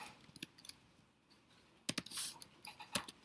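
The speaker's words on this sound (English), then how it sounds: "just to practice typing this a little." Typing on a computer keyboard during a fundamentals lecture, heard as sparse, faint key clicks in short irregular bursts, with a slightly louder cluster near the end and no talking.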